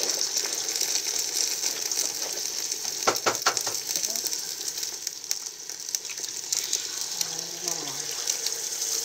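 Onions and an egg frying in small pans on an outdoor cooking setup, giving a steady close sizzle throughout with a few sharp clinks and knocks of utensils partway through.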